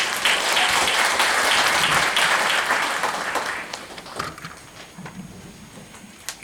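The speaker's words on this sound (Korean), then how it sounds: "큰 박수로 맞이해 주시기 바랍니다." An audience at a Finnish-education seminar during an international conference gives a speaker a welcoming round of applause, loud and dense at first, then thinning into scattered claps toward the end.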